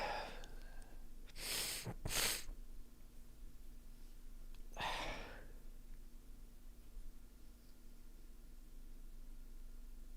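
A few sharp nasal sniffs close by, two quick ones followed by another a few seconds later, against a quiet hiss.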